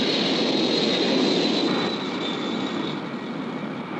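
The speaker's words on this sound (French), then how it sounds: "Faut aller dans l'avion qui vient de décoller." An airplane takes off in an animated cartoon, a loud broad engine roar with a high whine that gradually weakens and fades toward the end.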